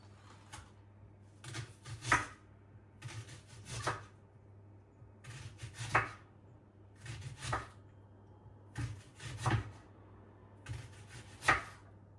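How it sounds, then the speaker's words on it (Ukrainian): Onion being cut on a board while cooking plov, a series of about seven bursts of crisp knife strikes, each a quick rhythmic flurry of chops with short pauses between, close and moderately loud over a steady low hum. "Тепер треба вирізати цибулю. Я вже можу вирізати цибулю, бо вона легенька."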